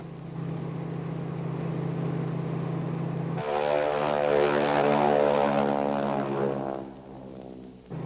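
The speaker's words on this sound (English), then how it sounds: "The Harvard is an inherently unstable airplane, as fighter aircraft are" A North American Harvard trainer's propeller engine drones steadily and close, then rises into a louder, harmonic-rich roar with a beating tone for several seconds before easing back.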